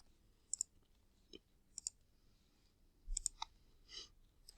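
Keyboard keys clicking as an answer is typed into a box on a computer, a few quiet, separate clicks and short bursts of tapping in an otherwise near-silent room.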